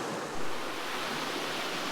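Leura Cascades waterfall pouring steadily nearby, a dense, even roar of rushing water with no pauses, loud and continuous throughout.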